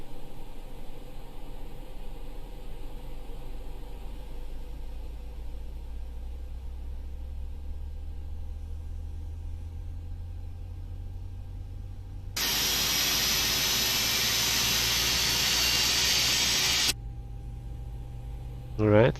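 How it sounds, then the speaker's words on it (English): Airbus A319 jet engine spooling up during start in an X-Plane 11 simulator: a low steady rumble in the cockpit, then a loud broad whoosh that surges midway, holds for several seconds and drops back to a lower hum. "we monitor how the engine is spooling up"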